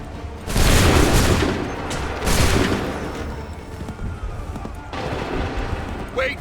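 Musket volley in Assassin's Creed III, two big crackling rounds of massed gunfire about two seconds apart with booming echoes, a smaller burst near the end, and battlefield voices underneath.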